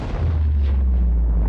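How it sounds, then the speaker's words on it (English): The Aurora ship explodes in the video game Subnautica, a loud, deep, rumbling boom that swells and rolls on steadily without letting up, with no voices over it. "what else should we watch during this night but the explosion of the Aurora?"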